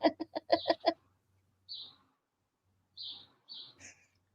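Birds chirp in the background, with a quick burst of rapid clucking or chattering calls first, followed by scattered, faint higher tweets over a quiet room.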